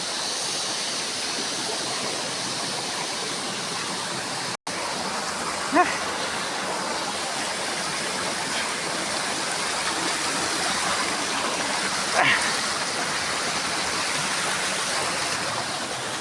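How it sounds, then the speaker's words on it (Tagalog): Running water flows in a mountain stream, a continuous broadband rush that stays steady and fairly close, with a brief cut and a couple of faint knocks but no talk. "Dagan tubig pero dili mainom."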